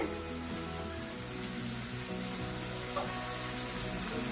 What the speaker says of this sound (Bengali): রেডি করার জন্য পেঁয়াজটা ভেজে নিচ্ছ তাই তো?